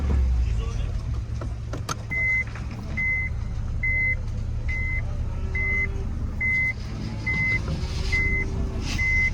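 Busy road traffic at a livestock market, cars and trucks idling and passing, a steady series of reversing beeps repeating about once a second, and voices murmuring in the background.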